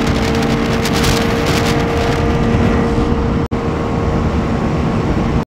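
Kawasaki Z800 and KTM Duke 390 motorcycles racing at high speed in fifth gear, heard from one rider's position: a loud sustained engine drone blended with heavy wind rush, with a brief dropout near the end.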